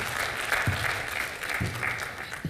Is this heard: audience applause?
yes